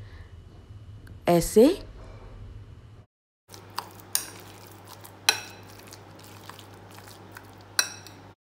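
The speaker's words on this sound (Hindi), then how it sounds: "ये जो पनीर है इसे हम मैश करेंगे मिक्स करते टाइम ही" Paneer being mixed and mashed with other ingredients in a bowl, a few sharp spoon taps and scrapes against the bowl spaced a second or so apart, close up, with someone talking briefly before them.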